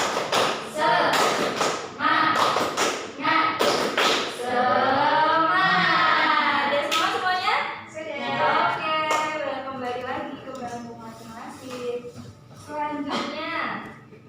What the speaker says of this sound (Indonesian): Coba 1, 2, 3, tepuk semangat.